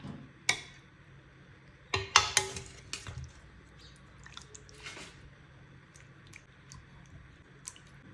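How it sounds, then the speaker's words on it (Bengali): Chicken curry with bottle gourd being served, with sparse soft clinks and wet squishy scrapes of a spoon against a pot and dish, a sharper cluster of taps in the middle and quiet gaps between. "এখন এটা আমি সার্ভ করে নেব"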